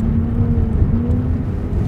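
A car brakes hard on bare ice with ABS working, giving a steady loud low rumble and a pulsing drone with no pauses, close up, with no voices.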